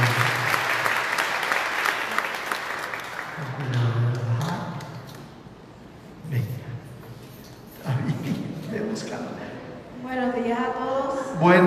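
Church congregation applauding at a Sunday Easter-season Mass, a steady wash of clapping for the first few seconds that fades out, followed by spoken voices.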